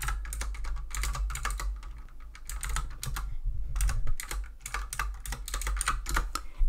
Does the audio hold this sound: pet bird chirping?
no